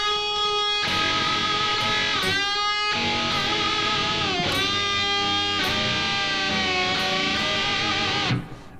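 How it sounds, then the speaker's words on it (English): A lead electric guitar plays sustained dirty string bends, the pitch sliding up and wavering as the neighboring string is caught alongside it, with several phrases held and bent in succession. "the last one we'll talk about here are what I call dirty bends"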